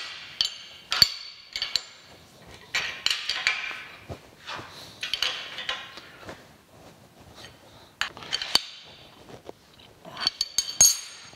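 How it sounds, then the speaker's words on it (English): Bolts being tightened to secure a heavy Wilton 800S 8-inch bullet machinist vise to a workbench, heard as close, irregular metallic clinks, taps and scrapes of a wrench on steel, with short pauses between bursts and no talking. "get these all tightened down to the bench"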